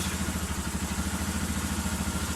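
A Romet K125 FI motorcycle engine idles steadily with an even, pulsing low rumble and slight mechanical clatter, close by and alone.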